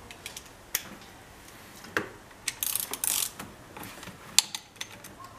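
A ratchet works a 10 mm fitting by the oil filler on a 2005-2010 Jeep Grand Cherokee WK CRD diesel engine, with quick bursts of close clicking and a few sharp metallic ticks, no talking.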